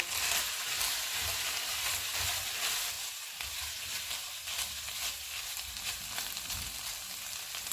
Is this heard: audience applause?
no